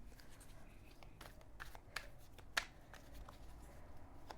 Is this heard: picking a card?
yes